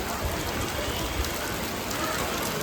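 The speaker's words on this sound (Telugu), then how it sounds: "ఫుల్ వర్షం పడుతుంది చూడండి." Heavy rain pours down steadily, a dense, close hiss of falling water with no break, with no voices heard.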